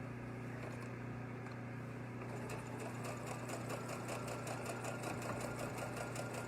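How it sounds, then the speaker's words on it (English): A sewing machine runs a short stitch around the nose piece of a fabric face mask, giving off a steady, fast, even mechanical whir and needle tapping that keeps going without a break, fairly quiet and close. "I like to run a stitch, just a really quick, maybe 2-inch stitch right around the nose piece."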